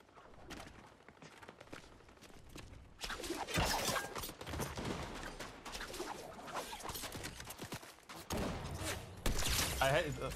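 Rapid bursts of gunfire in Fortnite Chapter 5, fairly close and punchy, breaking out in clustered volleys amid other game noise while players chat over it.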